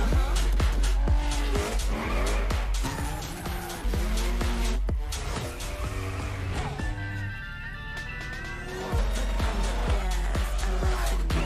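Race car in The Crew Motorfest, heard as a loud engine revving and shifting with repeated tire squeals and skids, continuous through the stretch, with a brief quieter lull partway before the engine roars back.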